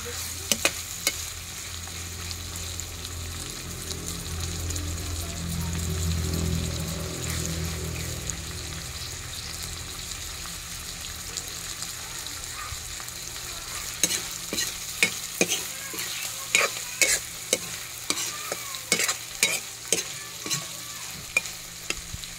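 Butter shrimp fry in a pan with a steady, close sizzle. A utensil stirs and scrapes against the pan, and sharp clicks and taps grow frequent toward the end.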